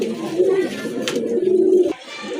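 Several big pigeons coo close by in a low, steady, throaty murmur that runs almost unbroken, with a faint brief bird chirp partway through. The cooing cuts off sharply near the end, then resumes softly.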